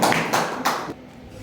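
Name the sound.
applause for the speaker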